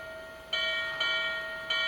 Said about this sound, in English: You can also do single strikes on the bell with the Legacy remote.